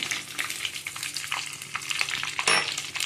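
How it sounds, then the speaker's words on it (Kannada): Curry leaves, cumin and mustard seeds crackle and sizzle in hot oil for a drumstick-leaf palya, a steady close-up frying hiss with small popping bursts throughout and no voices. "ಕರಿಬೇವು, ಜೀರಿಗೆ ಹಾಕಿದೆ. ಸ್ವಲ್ಪ ಸಾಸಿವೆ"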